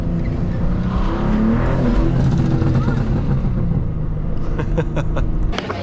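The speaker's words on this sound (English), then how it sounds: "car sounds good" A 900hp BMW G87 M2 engine rumbles loud and close with revving, a deep continuous drone that fades slightly at the end, with some speech mixed in.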